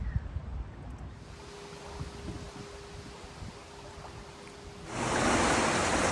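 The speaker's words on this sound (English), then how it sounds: "So just letting the water out." Water is let out of a lock on the Huddersfield Narrow Canal, making a steady broadband rush that swells louder and brighter near the end.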